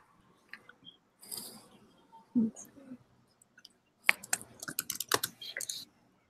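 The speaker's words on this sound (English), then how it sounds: "Can you hear me typing? Is that annoying?" Computer keyboard typing during a remote interview, heard as bursts of quick, close clicks and taps with brief pauses between, fairly quiet, with faint low murmurs and no clear speech.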